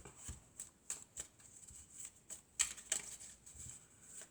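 Tarot cards being shuffled and drawn by hand, a run of soft, crisp card flicks and riffles coming in bursts, close and quiet, with no talking.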